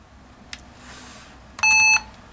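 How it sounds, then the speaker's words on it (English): A Lenovo Yoga 12.5 laptop gives a single short, clear electronic beep at startup, close and sharp against a quiet room. "It's beeping at us,"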